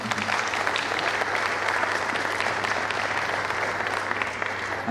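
Sustained, dense applause from an audience at the Maheshwari Prangan preschool annual day 2024, honoring Ravindra Pawar; steady, evenly loud clapping fills the whole stretch without pause.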